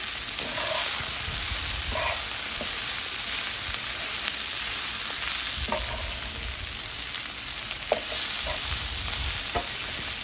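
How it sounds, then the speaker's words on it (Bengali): Onions frying in oil for beresta, a dense continuous sizzle with occasional clinks and scrapes of stirring, close and loud with no talking. "আর একটু বেরেস্তা বানাচ্ছি।"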